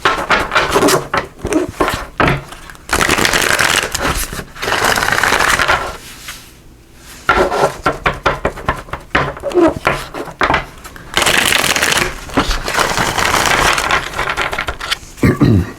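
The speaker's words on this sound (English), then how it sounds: "we're going to pick a card here from the Journey of Love deck to get that" An oracle card deck is shuffled by hand close up, giving dense riffling and rubbing bursts of a few seconds each, separated by brief pauses, loud and steady.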